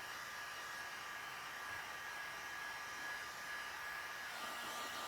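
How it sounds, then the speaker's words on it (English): A heat gun blowing steadily at close range while warming glue on an inflatable boat puncture repair, one continuous even whir and hiss with a faint high whine and no pauses. "we need to gently warm both surfaces up with the heat gun."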